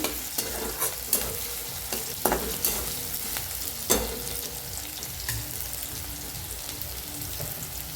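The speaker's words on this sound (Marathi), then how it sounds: "टमाट्याला मी चांगलं भाजून घेऊया छान असं भाजायला बघा कांदा टमाटो हिरवी मिरची लसूण" Tomato, onion, green chilli and garlic roast in a pan for a ridge gourd dish, a continuous soft frying sizzle broken by repeated scraping stirs of a spatula, close and fairly quiet with no voices.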